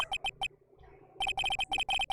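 Telephone ringing in the courtroom video game Phoenix Wright: Trials and Tribulations, a chirpy electronic ring in two bursts of rapid pulses split by a short pause, clear and alone.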